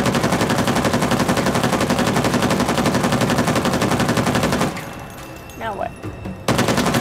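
Rapid automatic gunfire from the Uncharted 4 video game rattles loudly and continuously for several seconds, then drops away to a quieter stretch of game sound before another burst of firing starts up.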